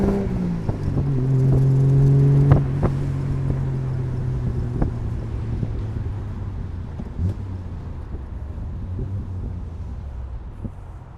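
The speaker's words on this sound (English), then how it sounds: "You can really drift the car around." A very light, balanced classic car fitted with MG brakes and an MG differential runs steadily, its engine droning and swelling briefly before settling into a continuous rumble with road noise.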